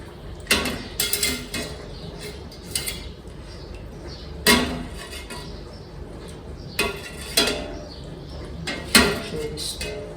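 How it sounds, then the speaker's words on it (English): Stainless steel utensil stirring cheese milk in a pot while making Colby cheese, giving several sharp metallic clinks and scrapes at irregular intervals over a low background hum. "Just going to stir that through"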